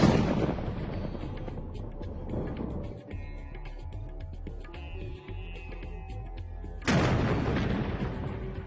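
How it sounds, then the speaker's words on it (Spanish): Small explosive charges split large stone blocks in a quarry. Two loud, broad blasts land at the start and near the end, with a lower rumbling, busy stretch between them. "Estas pequeñas explosiones se utilizan para dividir los paños en bloques de menor tamaño."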